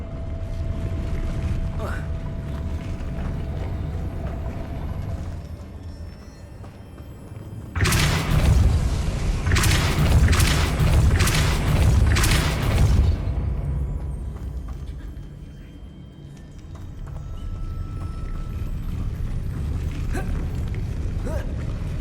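A Depulso spell blast from Hogwarts Legacy erupts as a sudden loud burst, followed by several rapid crackling bursts over a steady low ambient rumble, with no one speaking.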